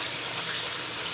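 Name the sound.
water being added to the cooking pot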